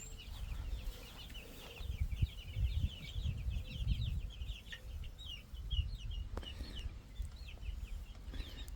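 Thirty-five young chickens settle into a coop on their first day, with busy high peeping and soft clucking over a low rumbling background and no voices.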